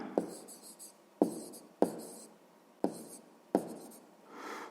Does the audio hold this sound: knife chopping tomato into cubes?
no